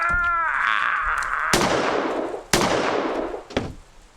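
Gunshot in an audio drama, three sharp, loud reports spaced about a second apart with decaying echoes, following a brief tonal whine and strained voices.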